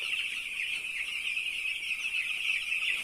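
Young chicks on a poultry farm keep up a continuous, high, shrill peeping chorus at moderate volume, with no voices.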